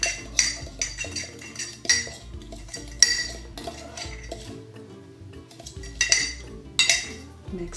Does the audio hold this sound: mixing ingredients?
yes